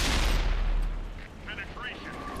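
A tank cannon fires in World of Tanks, a heavy blast that rolls off into a long decaying rumble, with faint game beeps and alert tones over the fading tail.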